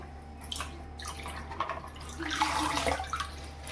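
Water splashing and dripping as spinach leaves are rinsed, with irregular trickles and light sloshes close by.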